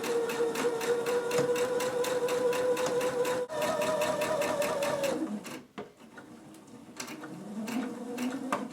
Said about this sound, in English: I'm doing a straight stitch. I always let the machine do the work.